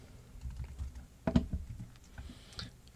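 Clicking keys of a computer keyboard as text is typed into album design software, a steady close patter with one sharper louder keystroke near the middle, no talking.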